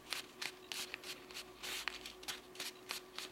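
Fingers crease and fold white computer paper into the wing of an origami gannet, a series of short dry rustles and scrapes in quick irregular bursts, close and soft with no talk.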